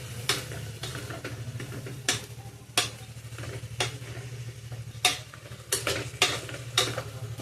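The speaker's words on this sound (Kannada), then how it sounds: "ಎಣ್ಣೆ ಸ್ವಲ್ಪ ಫ್ರೈ ಆಗಲಿ ಕಾಳು." Sprouted horse gram fries in oil in a pan for sambar, a soft steady sizzle under repeated scraping clinks of a spoon stirring at close range.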